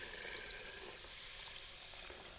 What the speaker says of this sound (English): we've got our 10 cups of water. And so we are just going to pour that in